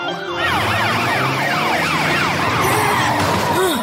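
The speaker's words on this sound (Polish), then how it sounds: "To syrena Matyldy robota." A cartoon robot's siren wails loudly and continuously, with rapid rising and falling sweeps that repeat throughout.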